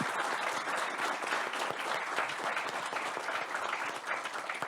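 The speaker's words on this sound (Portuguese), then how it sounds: "Peço uma salva de palmas aqui para os nossos dois convidados." Steady, dense applause from an audience thanking two panel guests at a talk on circular chemistry and construction, sustained at an even level throughout.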